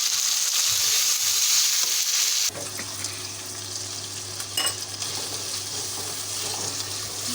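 Chicken frying in a pan for a chicken-with-chickpeas curry, a bright loud hiss that drops suddenly to a quieter, steadier sizzle with a low hum and occasional stirring knocks.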